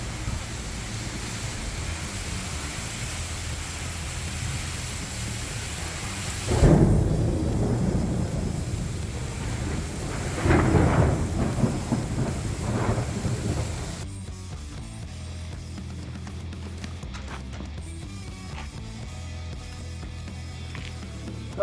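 Monsoon rain falls steadily as a broad hiss, broken by rolling rumbles of thunder, with two louder swells in the middle before the downpour continues more quietly.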